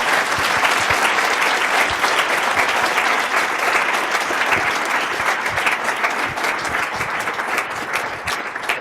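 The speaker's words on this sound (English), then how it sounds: "Big round of applause, please." Audience after a lunch keynote breaking into sustained applause, dense clapping from a sizeable crowd holding steady and close for several seconds before easing slightly at the end.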